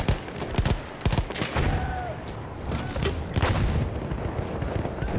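Battlefield 1 gunfire: dense, loud bursts of rifle and machine-gun shots crackle and boom without pause, near and far volleys overlapping in a chaotic battle.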